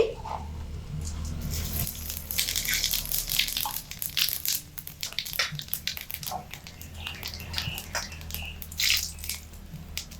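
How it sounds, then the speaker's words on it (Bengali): Whole fennel seeds tempering in hot oil for a banana-blossom dal, giving a busy crackling, spattering sizzle with bursts of popping that stays fairly loud throughout, with no talking. "এবার তেলের মধ্যে ফোড়নে গোটা মৌরি দিয়ে দিচ্ছি"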